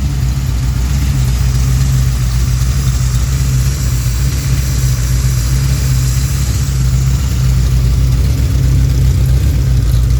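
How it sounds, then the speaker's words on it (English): A Pontiac 428 V8 with three two-barrel carburetors idles smoothly and loudly up close, a deep steady rumble with a mild even lope throughout and no talking. "It's got a really nice idle to it."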